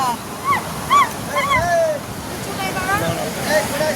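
Sea waves at Digha beach wash over boulders in a steady, rushing surf that runs throughout, with people talking over it.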